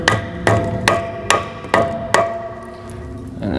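Metal hammer strikes drive a pin to push out a rivet during a rear suspension overhaul on a Volkswagen/Audi MQB chassis: six sharp, ringing blows spaced about half a second apart, then a lingering metallic ring.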